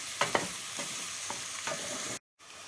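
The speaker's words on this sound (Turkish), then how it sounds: "O yüzden sonradan koyuyorum soğan ve sarımsağımı. Bunu da birazcık kavuralım." Onion and garlic sauté in a pan for a meat and pea stew, giving a steady close sizzle marked by a few quick stirring scrapes. The sound cuts out abruptly near the end before a short return.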